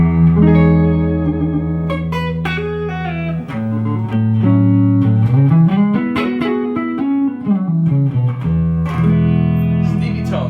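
Electric guitar through a Ceriatone OTS 20 amp with the mid switch boosting the midrange, playing loud, warm sustained notes and bending phrases with short picked runs and pauses, no talking.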